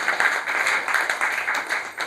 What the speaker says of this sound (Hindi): बहुत बहुत जोरदार तालियों से अभिवादन के लिए आप लोग